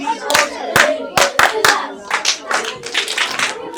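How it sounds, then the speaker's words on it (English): A Year 5 class and their teacher clap together in a classroom, a burst of loud, uneven hand claps close by that settles into quicker, softer clapping, with some voices mixed in. "Should we clap together?"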